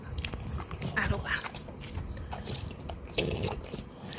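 Dogs bite and chew pieces of steamed sweet potato, with soft crunches and mouth sounds close by while someone talks over them.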